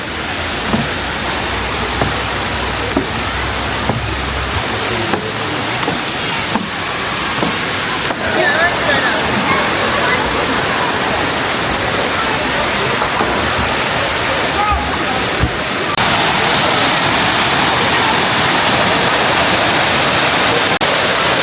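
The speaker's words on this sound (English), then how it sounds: "Cane Creek Cascades." Cane Creek Cascades at Fall Creek Falls rush with a loud, continuous broadband roar of falling water. Voices can be heard faintly beneath it, and the roar swells toward the end.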